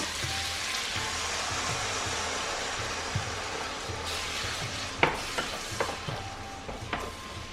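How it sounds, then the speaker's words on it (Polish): Sauce hits bacon and onion frying in a pan, producing a continuous loud sizzle, with occasional stirring scrapes and clicks toward the end. "No i przyszedł czas, żeby dodać sos."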